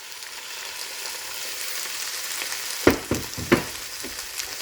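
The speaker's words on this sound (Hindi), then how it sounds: "मिक्स करूंगी अच्छे से और इसमें 2 कप पास्ता सॉस ये डाल दूंगी।" Homemade pasta sauce being stirred into pasta in a pan, with a low steady sizzle and a few sharp scraping knocks of the spoon against the pan near the end.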